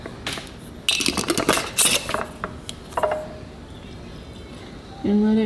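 A lid is handled and fitted onto a jar of flowers steeping in alcohol, giving a run of glassy clinks and metallic taps and scrapes, with a brief ringing tone at the end.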